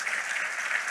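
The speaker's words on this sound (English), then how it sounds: "Please give them a wonderful round of applause" A crowd claps steadily, a dense wash of applause filling the whole short moment.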